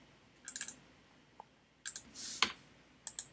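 Several quick clicks of a computer mouse during a right-click and paste, arriving in short bursts of two or three close taps, near and crisp, with a brief soft rustle between them and no voices.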